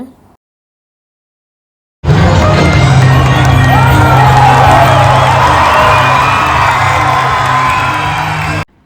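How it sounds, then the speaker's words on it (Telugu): A circus audience erupts into loud, sustained cheering, shouting and whooping for about six seconds after a short silence, with a dense wall of crowd noise throughout. "ఒక్కొక్క పర్ఫార్మెన్స్కి ఆ జనాలు ఇచ్చే రెస్పాన్స్ ఒకసారి చూడండి మీరే. విజిల్స్, అరుపులు"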